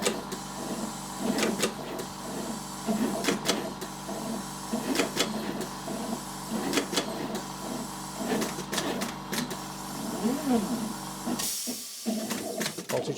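Pick-and-place machine for circuit board assembly running steadily, with compressor-driven vacuum hiss and rapid rhythmic mechanical clicks and pulses from the nozzle and feeders, close and continuous.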